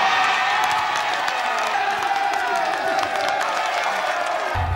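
Villagers cheer and applaud the winner of a contest in a film scene, a loud, continuous crowd roar of whoops and clapping that holds steady before cutting off at the end.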